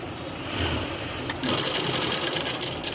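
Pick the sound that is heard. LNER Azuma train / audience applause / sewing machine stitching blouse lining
sewing machine stitching blouse lining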